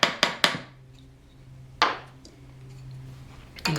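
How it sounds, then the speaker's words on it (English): A hammer taps a wooden hand plane's steel blade and then its wooden wedge into place: a quick cluster of three sharp knocks, a single knock after a pause, and another near the end, close and crisp. "tap the blade so it just sticks out, and then tap the wedge back in"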